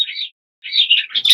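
Border canaries sit in Dewar style show cages lined up for a show, giving short bright chirps and tweets close by, with a brief pause between bursts.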